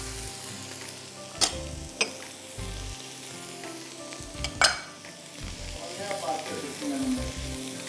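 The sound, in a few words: onions and mushrooms sautéing in a pan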